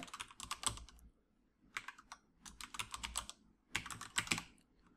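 Rapid bursts of keystrokes on a computer keyboard, several close, clattering flurries separated by short pauses, with no voices.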